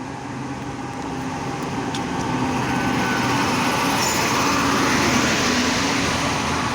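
Train arriving at a railway station, a broad rumbling roar that builds gradually and stays loud and steady throughout, with no voices heard.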